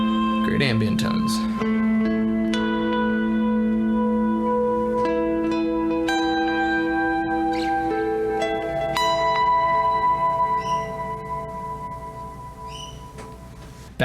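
A GOC Materia 3.ECO 7-string guitar plays ambient tones: sustained chords and bell-like notes that swell and ring out with long echo-soaked tails, loud, up close and without talking.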